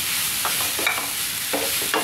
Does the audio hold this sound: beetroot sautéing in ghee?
yes